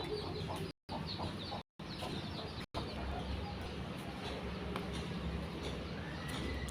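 Hens cluck steadily near newly hatched chicks, a close, continuous run of low clucks with a few brief dropouts and no talk.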